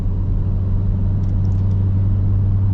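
A 2026 Ford Raptor R's supercharged V8 holds a steady, loud low rumble from up close, with no revving or change in pace and no talk over it.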